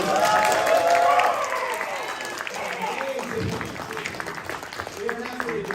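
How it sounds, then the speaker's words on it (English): An audience applauds at a radio-play panel at New York Comic Con 2023, with a burst of clapping and cheering at first that thins to scattered claps under a talking voice. "Give yourselves a round of applause."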